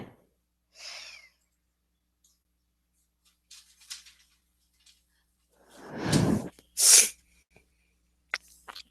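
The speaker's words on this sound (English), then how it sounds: "Pardon my sneezes." One forceful sneeze bursts out near the end, followed by a sharp sniff, with quiet rustling and soft breaths scattered around it.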